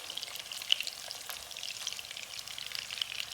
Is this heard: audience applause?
no